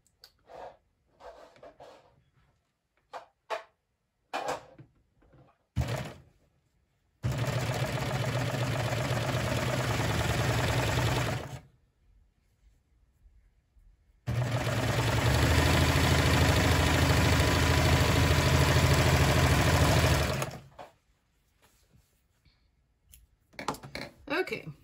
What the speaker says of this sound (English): So we're going to sew that seam, the bottom seam here, at 5/8 of an inch again